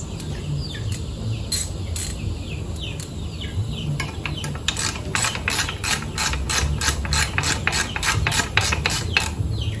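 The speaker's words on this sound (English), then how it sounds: "It takes a 9/16 ratchet." A 9/16 ratchet turns the gearcase bolts, starting with sparse clicks and then settling into a steady, fast run of crisp metallic ratcheting up close.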